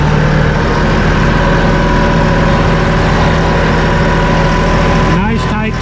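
A Massey Ferguson 1840M compact tractor's engine runs loud and steady close by, holding a constant throb with a slight rise in revs near the end.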